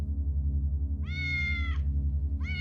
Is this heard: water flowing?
no